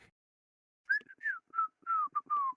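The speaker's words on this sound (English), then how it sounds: "It was just a small few whistles." A person whistles a short run of several bright, sliding notes close to the microphone, starting after a brief silence and coming in quick phrases with small gaps between them.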